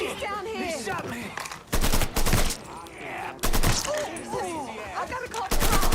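Bursts of gunfire in the Mafia 3 video game, loud volleys of rapid shots breaking up stretches of talking and shouting characters.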